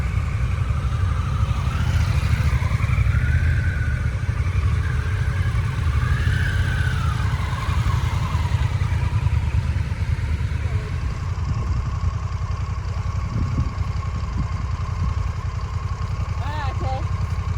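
A motorcycle engine idles loudly and steadily at an adventure bike festival, with a constant low rumble and voices faintly audible over it.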